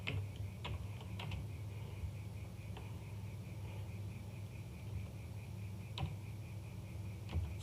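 Someone types a name on a computer keyboard, producing sparse, quiet key clicks spaced irregularly over a low background hum.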